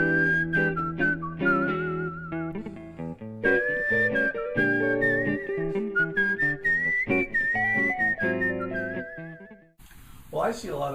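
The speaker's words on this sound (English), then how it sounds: "listeners will find it intriguing to hear whistling" A person whistles a jazz tune in a clear, agile melodic line over a full band accompaniment, with the whistle carrying loudly throughout before ending abruptly, followed by a brief burst of applause.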